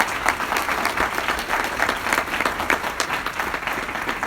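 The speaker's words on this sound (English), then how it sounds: "another round of applause, please," An audience at a morning session of a Northern California birthday celebration applauds steadily, a dense sustained crowd of clapping hands throughout, with no voices over it.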